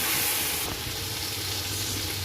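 Chicken with ground coriander and red chili flakes frying in a pan for Pakistani chicken yakhni pulao, a soft, steady sizzling hiss throughout with no voices.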